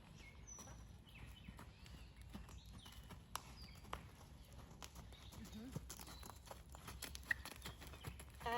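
Hoofbeats of a horse cantering in a riding arena during a lesson, a steady three-beat clip-clop fairly quiet under a rider's coaching voice, with faint birds in the background.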